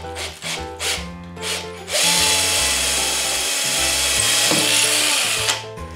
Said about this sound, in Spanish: vamos a proceder a hacer el agujero con una broca del 5. Ponemos la velocidad de broca de pared.